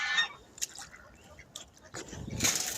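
An African goose honks in a barnyard, the loud calls coming in short bursts at the start and again near the end over a soft background of other fowl.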